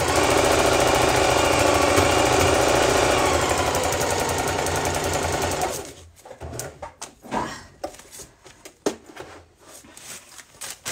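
A sewing machine running on high thread tension while stitching a scrap yarn bowl: a fast, continuous mechanical chatter for about six seconds, then stopping into scattered clicks and handling knocks, with no talk.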